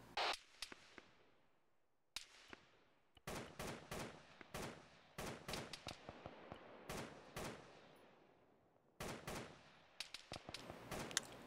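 Bursts of rifle fire crack through a military shooter firefight, with scattered single shots and rapid volleys separated by short quiet gaps, fairly close and sharp, with no voices.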